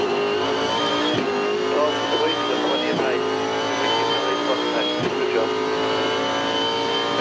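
Supercars V8 race car at the 2014 Tasmania 400 braking hard and downshifting through the gears from high speed, a loud engine blipping and stepping down in pitch several times in quick succession.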